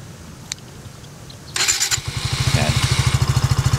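A Suzuki Gixxer motorcycle started by remote with keyless operation: a brief starter crank catches, and the engine settles into a steady, close, pulsing idle with no talk.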